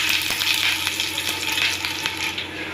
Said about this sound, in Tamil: கொஞ்சம் பெருங்காயத்தூள் சேர்த்துக்கலாம் அது நல்லா பொரியட்டும்